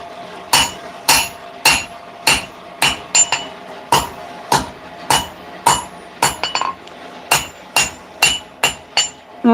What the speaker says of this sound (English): I'm going to just forge my blade to shape before I worry about these messed up bevels